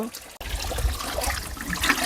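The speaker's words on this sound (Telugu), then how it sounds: "వేర్లు కింద నుంచి అయితే నీళ్ళు వస్తున్నాయి చూడండి" Spring water trickles and splashes steadily from beneath tree roots in a village, filling the clip up close with a continuous watery rush.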